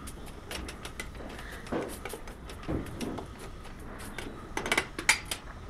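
Spoon scraping and clinking against a dish while milk powder is mixed into a betel-leaf ladoo mixture, with irregular close taps and scrapes over a soft steady background.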